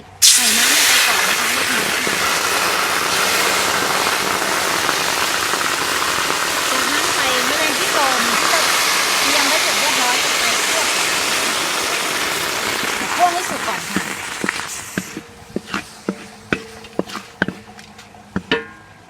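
A loud, continuous sizzle like frying in a hot pan fills most of the clip, then fades into scattered crackles and clicks, as Mangji insects dry-roast in a hot pan for an Isan Thai dish.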